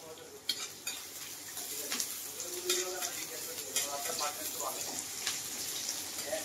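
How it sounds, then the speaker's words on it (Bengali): Chopped onion is stirred and fried in a pan, with soft sizzling under repeated scrapes and clinks of a spoon against the metal, fairly quiet and close. "তো এই পেঁয়াজটা একটু ভাজা ভাজা হয়ে গেছে।"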